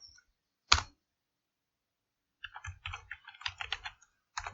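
One sharp click, a pause, then a run of quick uneven keystrokes as code is typed on a computer keyboard, close and clear with no voice.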